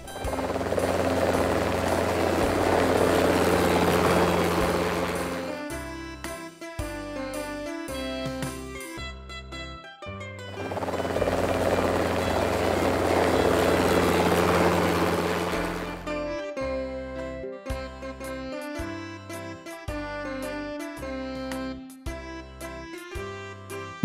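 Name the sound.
helicopter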